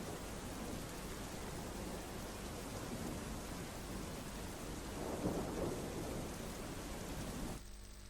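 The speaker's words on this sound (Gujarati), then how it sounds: "ધીમી ધારે ઝરમર વરસાદની શરૂઆત થઈ ગઈ છે" Steady rain pours in Gujarat with a continuous hiss and low rumbling thunder rolling underneath, the rumble swelling briefly midway before the clip cuts off.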